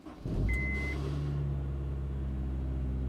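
A 2006 Honda S2000's engine cranks and catches, then settles into a steady low idle rumble, close by with no voices.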